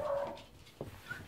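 A dog whimpers nearby in a brief, soft whine, followed by a short, faint yelp-like sound.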